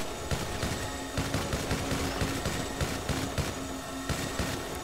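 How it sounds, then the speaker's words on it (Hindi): Rapid continuous minigun fire in GTA 5 during a zombie and UFO attack, a dense, loud stream of gunshots with rhythmic bursts lasting throughout, no talk over it. "Loggy, मिनी गन को मत छोड़ ठीक है?"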